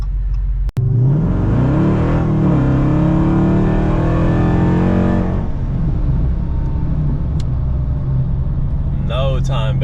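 A Dodge Hellcat pulls hard with a loud, close engine roar that climbs steadily in pitch, then holds a rough drone after a sharp click at the start, with a brief voice near the end.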